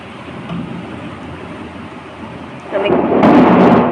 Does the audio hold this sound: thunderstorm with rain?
yes